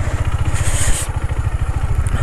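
A motorcycle idles close by with a steady, rhythmic low thump while being lifted onto a boat from a sandy riverbank on Majuli island in Assam, with a brief high whine and light clatter early on.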